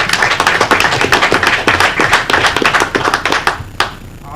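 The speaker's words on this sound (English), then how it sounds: "So give me a small clap for yourself." Council meeting attendees clap together in a dense burst of handclaps that tapers off near the end, with no talk over it.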